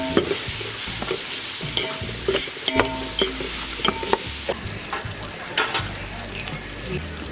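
Ginger garlic paste for Dindigul thalappakatti biryani sizzles in hot oil while a spoon stirs and scrapes the pan in repeated close strokes, loud and continuous, without talk.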